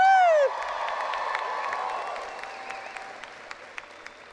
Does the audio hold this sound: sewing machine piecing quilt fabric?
no